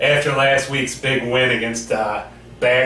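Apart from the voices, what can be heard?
No distinct noise like a dog, phone or traffic.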